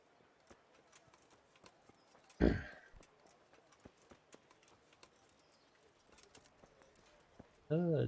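Horse hooves clip-clop faintly in the Kingdom Come: Deliverance video game, soft scattered steps under low game ambience, broken by a loud brief burst midway and a voice speaking at the very end.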